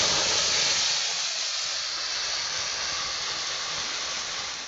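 Crushed olives dropped into hot mustard oil with dried chillies and tempering spices in a wok, giving a loud, close, steady hissing sizzle that slowly eases over several seconds.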